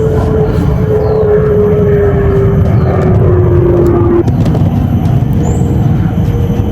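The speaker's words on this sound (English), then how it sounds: "at least one plane has to pass by when I'm filming" A plane passes overhead outdoors, a steady broad engine rumble with a slowly falling drone that stays loud throughout, over constant background noise.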